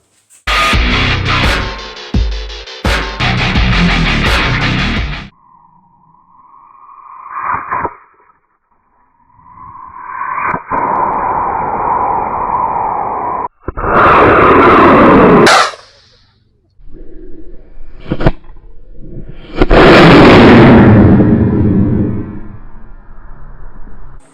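Quest D-20W motor lighting on a model rocket called the Bullet, its first flight at a rocket club field: a rising roar and hiss after earlier bursts and crackles, with loud whooshing surges and wind noise around it.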